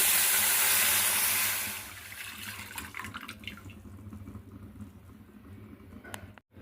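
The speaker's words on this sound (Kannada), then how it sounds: "ನಾನಿಲ್ಲಿ ಈ ವಾಟ್ಗತ್ತಲೆ ಒಂದು ವಾಟ್ಗ ಮಜ್ಜಿಗೆ ಹಾಕ್ಲಿಕ್ಕತ್ತೀನಿ." Buttermilk pours into a bowl in a steady liquid stream for about two seconds, then gives way to faint trickling, dripping and light kitchen handling, with no voices present.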